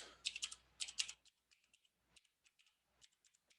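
Typing on a computer keyboard while entering a name in 3D modeling software: two quick bursts of crisp clicks come first, then sparser, fainter single key taps, all close up in a quiet room.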